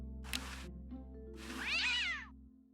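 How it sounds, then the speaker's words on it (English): A cat in the video game Day of the Tentacle gives two distinct meows, a short one then a longer rising and falling one, clear over a low steady background hum. "What a pretty pussycat."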